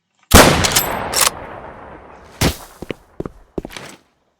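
Gunfire in the Roblox Zula shooter game on a snowy favela map: loud, close shots, an opening burst then a single shot, followed by a few sharper, quicker cracks.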